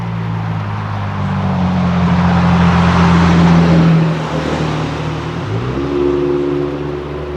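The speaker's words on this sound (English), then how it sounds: "It was like a 4-cylinder pickup pulling a trailer. Could barely get up that hill." A 4-cylinder pickup towing a trailer strains up a hill, its engine droning loudly and steadily with pitch rising and falling as it labors, close and continuous without speech.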